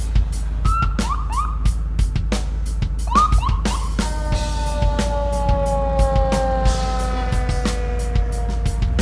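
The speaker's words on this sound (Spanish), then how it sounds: "ahí viene una pinche ambulancia que me tengo que mover a la chingada" An ambulance siren wails loudly and close, cycling through rising and falling tones and then a steady sweeping pattern as it passes, with sharp clicks and a low hum underneath.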